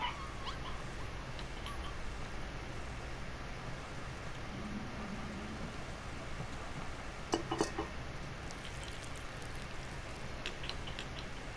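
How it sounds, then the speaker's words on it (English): A dog whimpers and whines faintly in the video game Life is Strange 2, soft plaintive cries over a low steady background with a few brief clicks near the end. "Oh, stop moaning, dog."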